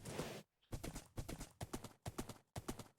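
Horse hooves clip-clop in a Minecraft game, sounding as a steady run of close, crisp hoof steps in short groups after a brief pause, with no talking over them.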